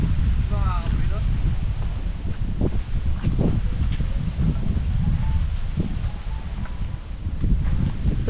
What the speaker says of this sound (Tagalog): Gawa ng mahangin.